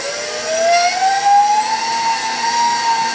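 Stand mixer with a fine meat grinder attachment running at speed 4, a steady close motor whine that slowly rises in pitch over a continuous whirring drone.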